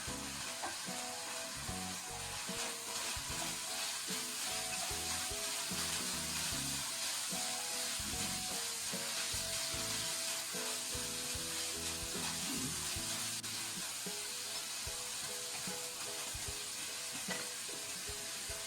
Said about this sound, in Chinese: 一直炒到葱花边缘有一些微黄，然后下入白菜丝煸炒。